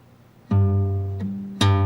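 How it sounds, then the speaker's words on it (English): A hard, nearly snapped bass-string pluck on an acoustic guitar, close and loud, followed by a lighter strum and another sharp snapped bass note. "Sometimes she would almost snap the bass string like this."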